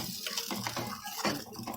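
Water poured into a cooking pan while making a Khandeshi-style ridge gourd curry, a short splashing trickle with uneven bursts, close and fairly quiet with no talking.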